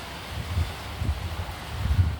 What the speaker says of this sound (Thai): ลมแรงมากเลยเพื่อนๆดู